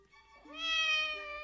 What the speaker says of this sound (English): Yes, Cat, I know you want your breakfast